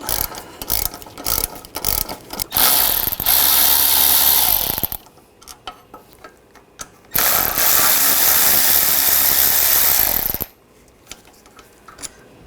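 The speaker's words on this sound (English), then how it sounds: "you can take the bolts out." A ratchet clicks rapidly while removing rear brake caliper bolts on a 2015-2020 Cadillac Escalade, with a bursty start and two long sustained ratcheting runs, loud and close.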